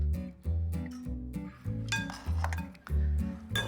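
Sliced potatoes and lots of onions are tossed with olive oil and salt in a dish, giving repeated close clinks and scrapes of utensils against the dish in uneven bursts, with no talking.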